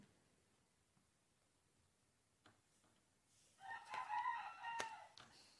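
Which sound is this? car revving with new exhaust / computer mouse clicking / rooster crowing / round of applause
rooster crowing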